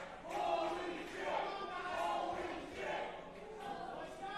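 Crowd at an amateur wrestling show in Pittsburgh roaring in steady swelling waves of cheering and shouting, loud and sustained throughout with no single voice standing out.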